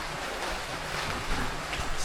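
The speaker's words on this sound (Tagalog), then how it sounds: "Ay, umulan pa rin." Rain falling steadily outdoors at a rural home, a constant broadband hiss with no clear individual drops, even in level throughout with no talking.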